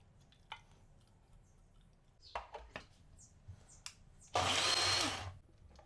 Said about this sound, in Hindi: उसके बाद हम इसका अच्छा सा पेस्ट बनाएंगे मशीन में डाल के।